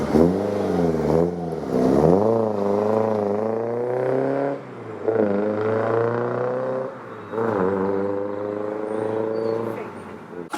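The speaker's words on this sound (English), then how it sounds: "Lotus twin cam sounds lovely" A Lotus Cortina's twin cam engine revs hard and pulls away at a Sunday morning car meet, pitch climbing through several gear changes, loud and close at first, then easing off as it accelerates away.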